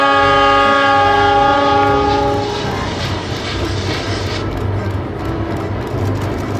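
Toy Thomas train sounding a horn, a loud harmonic tone lasting about two seconds, followed by a rumbling running-train noise to the end.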